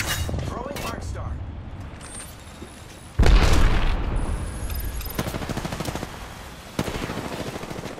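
Thermite grenade going off in the video game Apex Legends, a sudden loud boom followed by crackling burning and bursts of gunfire, with game voice callouts in the mix.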